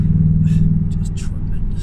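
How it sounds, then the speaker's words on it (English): A Jaguar F-Type P300 accelerates with a steady, loud engine drone heard up close, while faint whispery noises ride over the top. "The engine note is nice."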